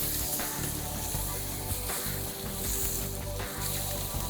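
Steaks frying in a cast iron pan on a Siemens induction cooktop give a continuous dense sizzle and hiss with a faint electronic hum underneath, close up, with no talking.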